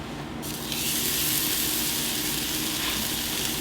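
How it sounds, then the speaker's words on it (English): A steak sears in avocado oil on a Blackstone griddle heated to about 569 degrees, a loud, steady sizzle that jumps up within the first half second and then holds a dense, close hiss. "I've got some avocado oil down, and now the sear"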